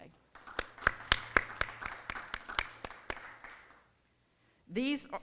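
Scattered clapping from a small group at a high school education awards celebration, light and uneven, fading out before a brief voice speaks at the end.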